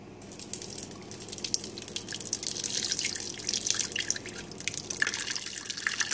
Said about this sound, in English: Now it's time to pour into the colander.